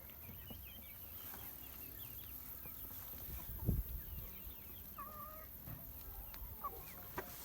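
Faint clucking and soft chirps from hens and about 45 chicks scattered over a quiet outdoor hum, with one brief louder thump midway.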